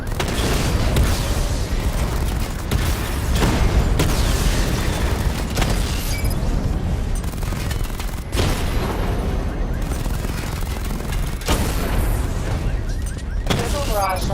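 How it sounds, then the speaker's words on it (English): Missile barrage explosions in Batman Arkham Knight, with dense, loud booms and bursts rolling one into another over a continuous rumble, heavy and close throughout. "Charge the missile barrage to level 2 to destroy up to 4 targets at once"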